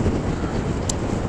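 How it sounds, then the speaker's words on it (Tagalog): Strong wind roars steadily across the microphone of a Honda Click 125 scooter on a long highway ride, a dense, constant rushing buffet with no pauses. "Lakas ng hangin, delikado"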